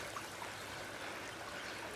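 A river stream flows steadily in a film scene, a soft continuous rushing and trickling wash heard alone at low level.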